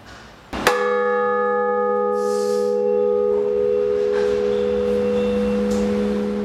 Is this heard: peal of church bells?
yes